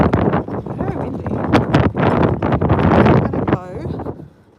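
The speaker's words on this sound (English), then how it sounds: "Very windy." Strong wind buffets a microphone on a walk near the Sydney harbour, a loud rumbling roar with gusty surges throughout, with a voice faintly underneath.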